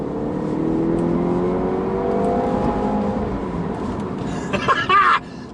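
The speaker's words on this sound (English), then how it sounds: "with it being a petrol car, it sounds wicked as well" A 2018 Jaguar E-Pace petrol engine rises in pitch as it accelerates, a steady climbing drone heard from inside the vehicle, followed by a brief cough near the end.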